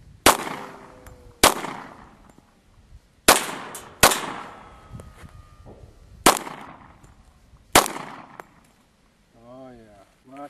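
Kimber TLE RL2 1911 .45 handgun firing at an outdoor range, six loud, widely spaced shots each ringing out and decaying, followed by a short spoken remark at the end.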